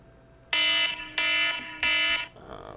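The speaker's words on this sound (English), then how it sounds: "I have the same alarm to wake up to." An alarm clock going off with three loud, evenly spaced electronic beeps, each about a third of a second long, close and piercing, followed by faint background noise.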